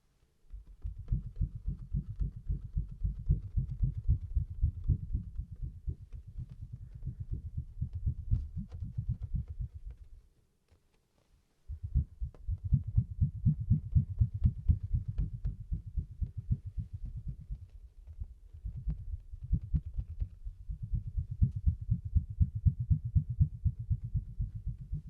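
A very big, very thin Lego piece is scratched rapidly and continuously close to the mic in soft, low, dense bursts, with one short silent pause, and nobody talks.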